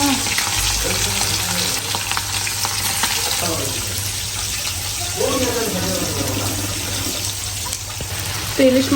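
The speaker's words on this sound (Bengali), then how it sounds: "রান্না করার জন্য আমি মশলা কষাইতেছি আদা রসুন দিয়ে দিচ্ছি" Spices fry in a pan with ginger and garlic, giving a steady sizzle with some wet, watery crackling and stirring. A voice talks over parts of it.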